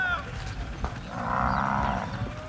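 Charolais cattle on a pasture ranch moo once over a steady farmyard background, with moderate outdoor ambience and faint talk.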